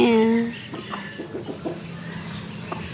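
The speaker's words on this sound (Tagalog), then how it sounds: "Ngayon, nagpakain ako ng manok." Backyard chickens clucking while being fed, a short harmonic call up front followed by scattered soft clucks and pecking-like ticks close by.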